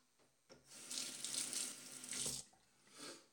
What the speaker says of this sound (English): Let's get a little bit of water on the face.